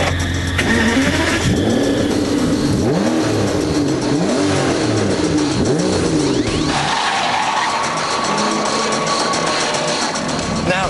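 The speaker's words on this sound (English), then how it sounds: "if the sheer sound of that V12 warming up wasn't enough to get you excited" A V12 engine in an Aston Martin DBS warms up loud and close, its revs rising and falling in repeated swells before settling into a steady idle hum.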